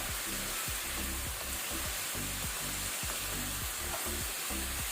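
Oyster mushroom stir fry sizzling steadily in a hot pan, with a repeated rhythmic scraping as a spatula mixes it, close and continuous with no talking.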